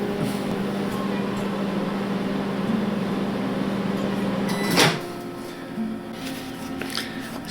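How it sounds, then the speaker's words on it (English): A microwave oven hums steadily while warming paint-soaked green fibre for miniature wire trees, then a door clunks open partway through, followed by quieter faint handling sounds. "into the microwave give it a few seconds to warm it up"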